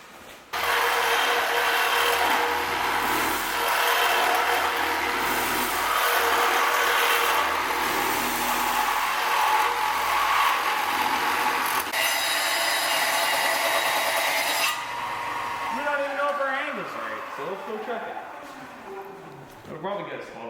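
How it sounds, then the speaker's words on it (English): A Sawzall reciprocating saw cuts steel tube for a front tension bracket on a Nissan S13 240SX drift car, a loud, harsh, continuous rasp for about fourteen seconds before it stops, with voices around it. "So I'll just finish it off with the Sawzall."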